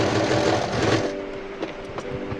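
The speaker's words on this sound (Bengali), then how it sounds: "এবারে আমরা নিচে যে কটুরির নিচে যেটা বসবে সেইটাকে আমরা সেলাইটা করে নিচ্ছি।" Sewing machine stitching the lower katori piece of a simple single-katori blouse, a steady close whirring run that slows and stops in the second half with a few short bursts after.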